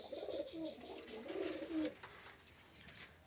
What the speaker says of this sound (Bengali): এখানে আছে হলো একটা ছাকি সিঙ্গেল নর কবুতর ছাকি।